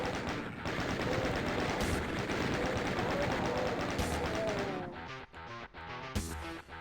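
Chainguns of chaingunner enemies rattle in Doom's Plutonia Experiment, a dense continuous burst of rapid game gunfire lasting several seconds, then breaking into scattered shots as the firing thins out.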